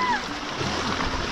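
People swim across a river on a hike to Kohoj Fort near Palghar, with steady rushing and splashing water close by and voices faintly in the background.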